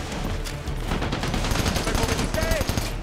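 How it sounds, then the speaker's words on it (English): Sustained machine gun fire rattles in rapid bursts during a combat scene in the video game Army of Two: The Devil's Cartel, loud and close, with a brief tonal game sound partway through. "Machine guns pinning us down out here."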